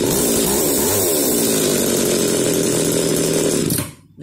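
A used farm machine engine runs loud and close, a steady rough mechanical drone with no talk, then cuts off abruptly near the end.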